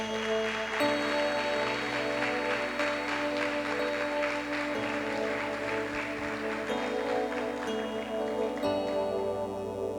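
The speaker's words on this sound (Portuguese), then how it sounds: "Você pode dar um aplauso ao Senhor?" A Sunday church congregation claps to praise the Lord, with steady rhythmic clapping over sustained keyboard or organ tones throughout.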